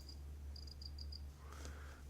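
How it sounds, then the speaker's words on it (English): Crickets chirp in short, evenly spaced high pulses inside a vivarium housing a Madagascan giant day gecko, faint against a constant low hum, with a brief soft rustle near the end. "The crickets."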